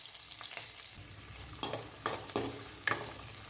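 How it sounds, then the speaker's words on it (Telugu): Chopped onion frying with cumin seeds in two tablespoons of oil in a pan, a steady sizzle broken by several louder stirring scrapes near the end. "ఆనియన్స్ని ఇలా వేయించుకుంటూ"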